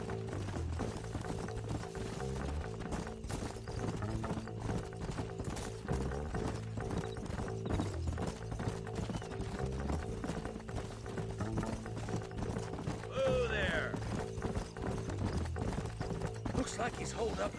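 Horses gallop in Red Dead Redemption on PS3, a steady drumming of hooves running under a spoken line and background game music throughout, with a brief whinny partway through.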